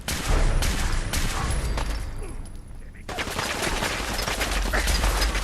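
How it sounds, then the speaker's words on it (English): A radium rifle in Fallout 4 fires in dense, loud automatic bursts, a continuous crackling stream with a short pause around the middle before firing picks up again. "Why don't we use the radium rifle?"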